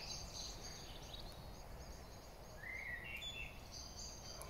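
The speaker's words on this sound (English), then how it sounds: "Dusk, and you just hear the blackbirds shouting there." Blackbirds call at dusk over quiet British countryside during a bottle-digging outing, their thin whistling notes and chatters rising faintly above a low, steady background hush, distant and sparse.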